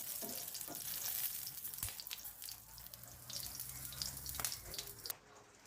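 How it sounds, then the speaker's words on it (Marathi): Green chillies fry in a little oil in a pan, with a steady crackling sizzle and occasional sharp pops and stirring scrapes, close and fairly quiet. "नॉर्मल मिरच्या भाजून घेऊया"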